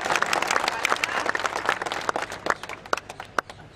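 Audience at a political rally in Dhar clapping, a loud sustained burst of applause with scattered sharp claps throughout.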